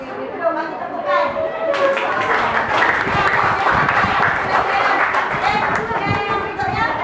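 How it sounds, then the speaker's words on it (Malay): A classroom of students claps together in a burst of applause that continues steadily for several seconds, with children's chatter and voices mixed underneath. "kita dulu bagi tepukan."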